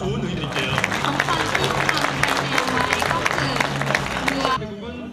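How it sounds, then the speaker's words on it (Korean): Audience applause breaks out at a welcome reception for athletes of a Korea–Thailand super match, a loud, dense run of clapping with crowd murmur and some speech underneath, ending abruptly near the close. "박수 부탁드립니다"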